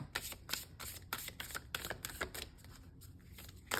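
A tarot deck is riffle-shuffled several times in quick bursts, crisp and close, with no talking.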